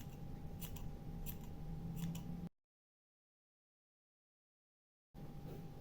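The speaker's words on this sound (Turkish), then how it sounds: "ipleri kesiyorum." Scissors snip through yarn for a pompom with a few quick, soft, close cuts over faint background hum, then a stretch of silence.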